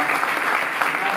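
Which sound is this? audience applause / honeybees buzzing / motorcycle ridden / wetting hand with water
audience applause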